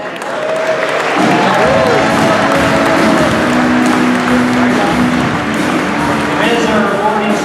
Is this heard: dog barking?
no